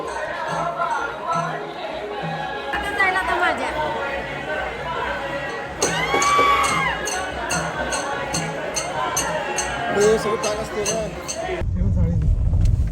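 A dense crowd chatters and murmurs at a children's Dahi Handi festival, with voices talking close by over a continuous babble and a burst of louder noise near the end.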